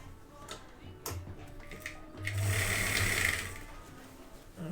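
A sewing machine understitches a garment seam in short close bursts, with a low motor hum and a faint rapid ticking, and a longer steady run in the middle.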